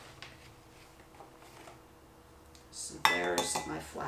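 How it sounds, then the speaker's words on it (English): Pastry flour and sugar are mixed in a bowl: a quiet start, then a brief burst of close scraping and clinking of a utensil against the bowl near the end. "First I'm going to mix these two things together"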